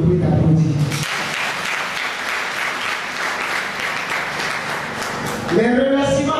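Audience applause for an honoured woman at a career-anniversary ceremony, a dense, sustained round of clapping lasting about five seconds, with a speaking voice before it and returning as it fades.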